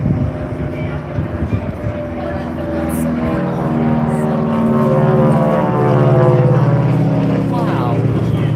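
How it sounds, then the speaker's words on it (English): A propeller airplane drones overhead, its engine hum swelling steadily louder as it passes, while people's voices are heard beneath it. "I'm keeping an eye on that plane"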